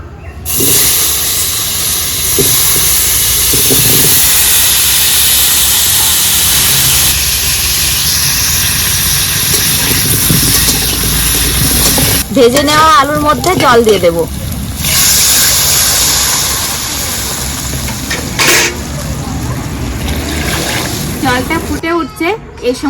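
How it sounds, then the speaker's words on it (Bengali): Potatoes dropped into hot oil already used for frying fish set off a loud, dense, continuous sizzling hiss that holds for the whole stretch, with a brief spoken passage partway through. "ভাজা তেলে আলুগুলো ভেজে নেব"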